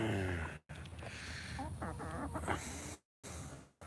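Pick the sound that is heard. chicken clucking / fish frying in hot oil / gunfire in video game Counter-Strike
chicken clucking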